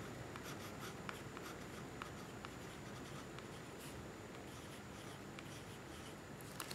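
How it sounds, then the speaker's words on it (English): A colored pencil scratches steadily across a painting as an artist signs it, a close, quiet scraping with small strokes and taps over a soft room hiss, with no talking. "I'm gonna sign it in the pencil of which color I don't use much."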